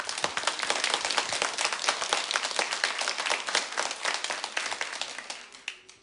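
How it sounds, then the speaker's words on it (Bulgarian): A television studio audience applauds with dense, steady clapping that continues for several seconds before fading out at the end. "Аплодисменти"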